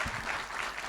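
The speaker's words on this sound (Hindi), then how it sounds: "एक बार जोरदार तालियां" An audience breaks into hearty applause at a live talk event, a short burst of dense, steady clapping.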